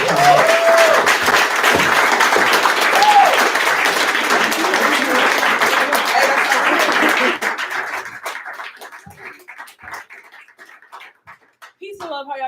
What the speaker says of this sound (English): Give Jandeltha Rae a warm round of applause